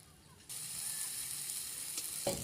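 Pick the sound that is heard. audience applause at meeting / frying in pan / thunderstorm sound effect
frying in pan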